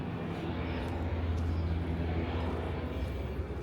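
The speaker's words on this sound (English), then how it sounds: "water plane over there" A seaplane passes overhead above a Seattle beachside street on a summer day, heard as a steady low propeller drone that stays faint and distant against broad outdoor background noise.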